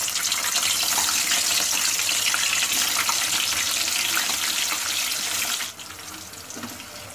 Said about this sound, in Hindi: हम शेलो फ्राई कर रहे हैं, आप भी फ्राई भी कर सकते हो।